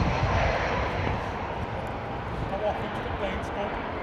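A steady, broad roar of an airplane engine passing overhead at Heathrow Airport fills the clip, constant and fairly loud, with faint voices in the background.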